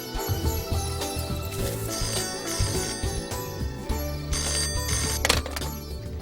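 Telephone ringing loudly and continuously in a Malayalam film scene, a repeating electronic ring pattern that stays close and prominent throughout.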